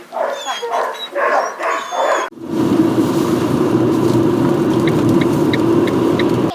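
Dogs being evacuated from Ukraine bark and yelp continuously close by, a dense, loud clamour that follows a few seconds of people talking.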